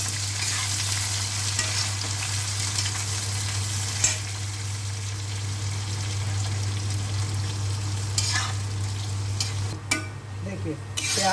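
Onion and green tomato fry in hot oil for Champaran-style mutton qorma with a constant loud sizzle over a low hum. Occasional stirring clatters break in, with a burst of scraping near the end.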